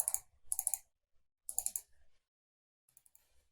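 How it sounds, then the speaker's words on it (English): A computer mouse clicked rapidly during UV unwrapping work in Maya, heard as a few sharp close click clusters separated by pauses, with a fainter burst of clicks at the end. "Just double clicking it makes it so much faster."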